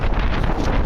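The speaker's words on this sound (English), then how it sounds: "Windy." Wind gusting across a microphone outdoors, a brief steady rumbling buffet with no other sound.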